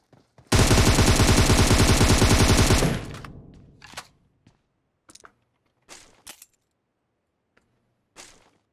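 Gunfire from a rooftop in PUBG Mobile: a loud, rapid automatic burst lasting a couple of seconds, followed by scattered single shots and sharp cracks at irregular intervals.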